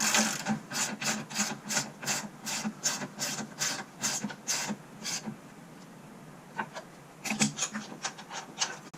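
A ratchet clicks rapidly while a steering rack bolt is tightened on a Dodge Challenger during a manual steering rack conversion, a steady run of close clicks, a pause, then a few more.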